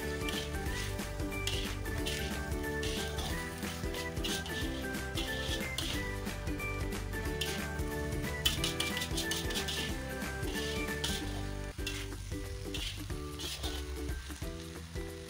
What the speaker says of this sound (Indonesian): Langsung saja kita menambahkan daging yang tadi sudah kita rebus dan langsung saja kita aduk-aduk agar tercampur merata dengan bumbu